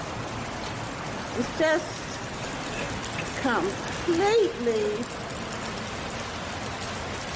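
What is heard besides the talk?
steady rain dripping outside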